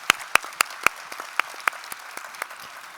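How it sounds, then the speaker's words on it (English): Sparse applause from a panel event audience, a few distinct claps standing out sharply at first and then thinning into scattered, lighter claps over a few seconds. "Let's give them a very warm round of applause"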